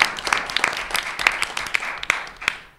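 A brief round of light hand clapping at a school committee meeting, a few people clapping in a room, fading out after about three seconds.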